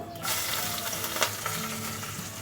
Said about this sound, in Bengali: তেজপাতা দিয়ে দিয়েছি আর একটু এক চিমটি মতো জিরে ফোড়ন দিচ্ছি